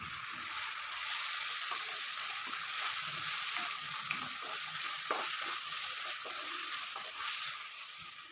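Tomatoes sauté with ginger garlic paste in a pan, a steady soft sizzle and fry with occasional light scraping and stirring clicks, heard close and alone.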